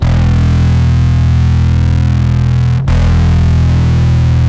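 Bass guitar played through a Boss ODB-3 bass overdrive pedal with the gain at noon, a thick sustained overdriven tone ringing steadily and loud, with one brief cut near the end before the note resumes.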